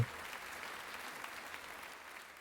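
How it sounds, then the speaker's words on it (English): Dense, continuous clapping built into a song, a steady wash of many hands with little variation, moderately loud and without voices. "The song, it has a clapping sound built into the song."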